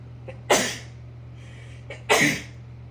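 Two sneezes about a second and a half apart, each with a short sharp intake before it, close up over a steady low electrical hum.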